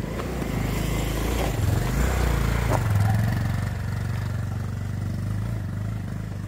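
A Bajaj Pulsar 220 motorcycle engine runs close by with a steady throbbing drone, rising slightly in the middle before settling back to an even idle-like hum.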